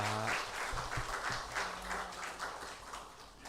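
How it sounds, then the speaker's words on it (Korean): A church congregation at a Sunday service applauds the choir after a hymn, a dense, sustained clapping that fills the room steadily before gradually tapering off. "은혜로운 찬양해 주신 성가대원들에게 다시 한번 감사의 박수 하겠습니다."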